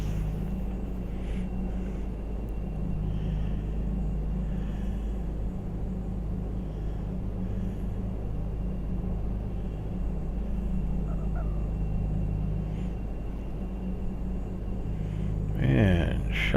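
Electric motors of an Outback EV-55 aircraft idle in X-Plane 11 as a steady low hum and rumble, with a brief rising whine near the end.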